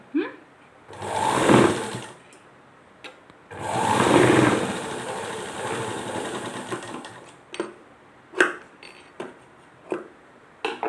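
A sewing machine stitches a blouse hook strip in two whirring runs, one short and one longer, followed by quieter clicks and fabric handling nearby.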